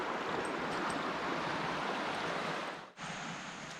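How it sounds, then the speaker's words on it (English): Fast-flowing stream water rushing steadily and loudly at close range along a state park trail, a continuous broadband roar that dips briefly near the end before resuming. "That's some fast-moving water there"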